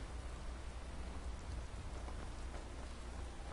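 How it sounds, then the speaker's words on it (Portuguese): Steady rain hiss, dense and even, with a faint patter of drops and no other sounds over it, from the video game Skyrim. "Tá chovendo."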